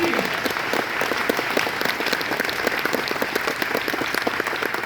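An audience at a furry convention opening ceremony gives loud, continuous applause for a new department, many crisp claps blending into a dense roar, with faint voices mixed in.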